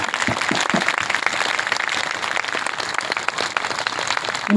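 An audience claps together for a speaker, producing a dense, sustained round of applause that stays loud and even throughout.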